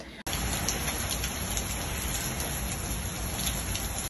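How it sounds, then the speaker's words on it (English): Rain falling in Dubai, a steady close patter of drops on surfaces beginning abruptly after a brief silent moment and continuing evenly. "It's raining in Dubai."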